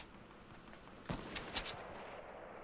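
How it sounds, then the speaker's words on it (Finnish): Gunfire in the video game Fortnite: a few quick shots crack out in a short cluster midway, fairly distant and quiet against a low steady background hiss. "Tossa ampu joku äijä."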